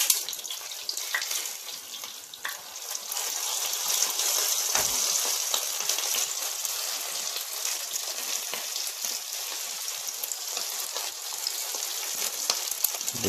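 Chapli kababs fry in a pan with oil, producing a loud, dense, continuous crackling sizzle that holds steady throughout with small pops and spits.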